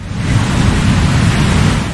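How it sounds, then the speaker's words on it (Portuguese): An airplane taking off produces a loud, steady, broadband roar with a deep rumble that holds constant throughout. "um avião decolando"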